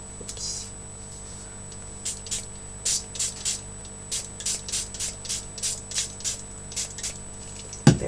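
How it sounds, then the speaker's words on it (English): A handheld spray bottle misting water onto poinsettia flowers, a string of short, soft hissing spritzes in an uneven rhythm, close and fairly quiet. "I have some water in a spray bottle, and I'm just making them all wet"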